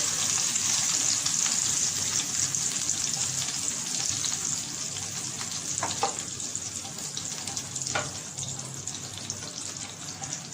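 Ground spices frying in an egg curry masala, a steady loud sizzle filling the pan throughout, with a couple of brief stirring scrapes partway through.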